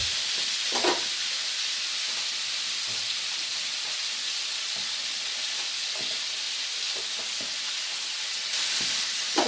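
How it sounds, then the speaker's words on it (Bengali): Eggplant and greens stir-frying in a pan give a steady loud sizzle and hiss throughout, with occasional soft scrapes and clinks of stirring. "বেগুনটা দিয়ে হালকা নেড়ে চেড়ে এবারে ফাইনালি শাকগুলোকে এর মধ্যে অ্যাড করে দেবো।"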